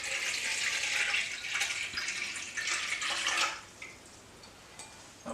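Warm water at about 28 degrees is poured into a mixing bowl for sourdough, a close splashing pour that lasts about three seconds, then trails off into a few faint drips.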